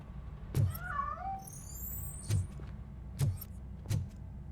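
Cat meowing in the video game Robocop: Rogue City, a few short mewing calls early on over a low ambient hum and occasional soft thuds, at moderate distance.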